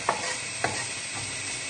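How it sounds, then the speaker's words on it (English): Shallots frying in a pan give a continuous sizzle, broken by a few scraping strokes of a utensil as they are stirred, close and fairly loud, with no voice. "we'll just give these shallots another little stir"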